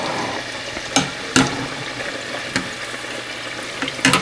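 Hushpuppies frying in hot oil make a steady, fine crackling hiss, broken by a few sharper pops and spatters near the pan.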